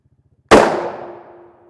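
A single sharp rifle shot strikes a steel body armor plate, producing a loud close metallic crack followed by a ringing decay that fades over about a second, after a brief quiet lead-in.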